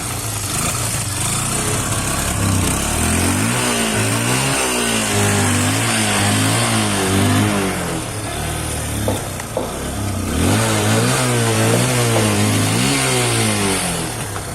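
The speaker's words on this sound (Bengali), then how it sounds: "একটু স্টার্ট করে সাউন্ডটা আমি আপনাদের শোনাই তারপরে কিন্তু এই বাইকটির প্রাইসও বলে দেব" A second-hand motorcycle engine running, a continuous loud buzzing drone with rhythmic warbling pulses and a brief rise and fall in revs midway, close up with no talk.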